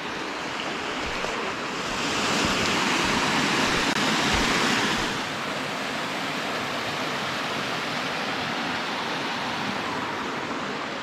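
A small cascading waterfall along the Appalachian Trail beside a campsite, a steady rushing wash of water that swells briefly louder in the middle, heard alone with no voices.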